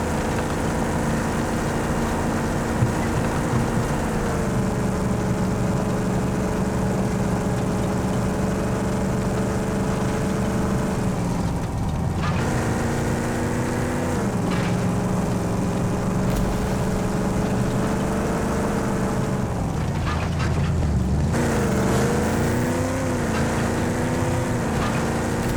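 Vehicle engine droning continuously while driving in the video game Rage 2, with pitch shifts and revving swells as it changes speed, loud and prominent throughout.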